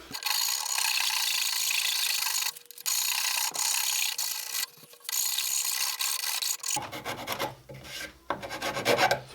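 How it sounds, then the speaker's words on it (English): Rasp filing across a wooden cigar box lid in steady back-and-forth strokes, close and fairly quiet, with brief pauses and some handling of the box toward the end. "I'm going to clean that up with some rasps or a shinto or a shinto, like Puckett refers to it."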